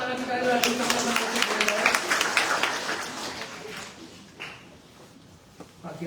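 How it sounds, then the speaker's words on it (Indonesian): Church congregation clapping hands together at a Sunday service, a brisk burst of claps over the first few seconds that fades out, mixed with crowd noise and talk. "Tepuk tangan sekali lagi sama-sama."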